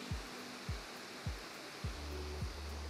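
Steady rushing creek water flowing through a winter park, a broad continuous wash of sound with faint low thumps recurring about every half second, moderately quiet and without speech.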